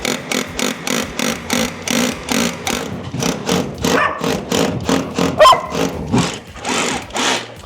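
A dog barks in a rapid, steady string of loud, close barks at a power drill being used to drive a screw into a garden wall, with the drill whirring beneath.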